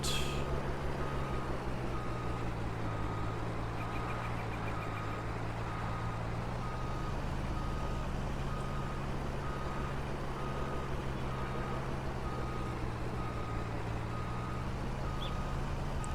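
A logging truck in Farming Simulator 19 rumbles at a steady engine drone while a reversing alarm beeps in a regular repeating pattern throughout, with no talk.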